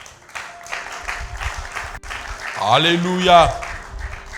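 A church congregation applauds in a steady wash of clapping while a voice calls out over it and a sung exclamation rises near the end.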